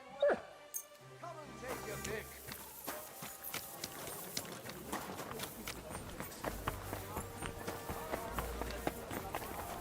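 Mutt the dog runs in Kingdom Come: Deliverance II, quick paws and hoof-like clip-clop footfalls mixed with high whimpers and yips, close and busy over a game soundscape, with voices in the background.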